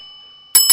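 A short bell-like notification chime rings out after about half a second of faint steady tone, two bright metallic rings in quick succession, loud and close, with no voices.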